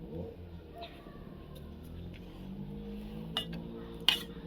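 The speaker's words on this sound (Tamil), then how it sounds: "உப்பு சேர்த்து கலந்துக்கலாம் நல்லா." A utensil clinks against a vessel while salt is mixed into ground masala in a rural village kitchen; quiet stirring scrapes are followed by two sharper metallic clinks near the end.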